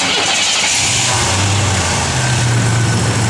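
The engine of a 1987 Buick Grand National runs loud and steady at idle with a constant low rumble and hum throughout, no voices.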